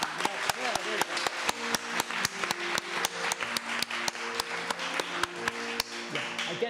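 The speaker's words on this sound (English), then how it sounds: "if you are loved, I invite you to clap your hands." A church congregation at a Sunday service claps in a steady, rhythmic beat, sharp regular hand claps carrying over a murmur of voices.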